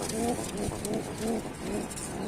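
Several pigeons coo in a steady, repeating rhythm at close range, with soft murmurs over a busy loft background, among pigeons kept for sale in Tanta, Egypt, including Australian and Brazilian breeds.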